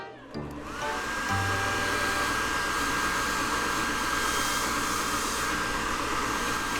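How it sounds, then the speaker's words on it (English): An automatic hand dryer in a bathroom kicks on and blows with a loud, steady, close whooshing roar that holds constant after a quick start-up. "He's having fun drying his hands under the automatic dryer."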